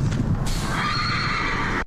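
A purebred Arabian horse lets out a loud, close whinny over a low rumble and hoof clops, the neigh holding steady for under two seconds.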